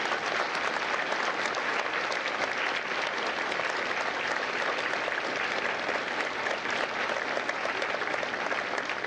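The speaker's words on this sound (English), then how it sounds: "Ladies and gentlemen, a round of applause for the dedicated service to Corps and country." A large audience at a U.S. Marine Corps recruit graduation at MCRD San Diego applauds Marine veterans, a dense, sustained roar of clapping that holds steady at an even level throughout.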